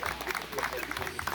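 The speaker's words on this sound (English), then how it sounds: "give her a round of applause, please" A crowd at a disc golf tournament applauds the organizer, a brief, dense patter of clapping from a fairly close group with some voices mixed in.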